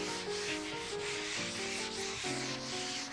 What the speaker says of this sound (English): Sanding the first coat of varnish.